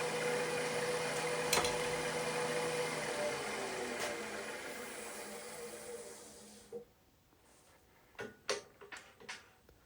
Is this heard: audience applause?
no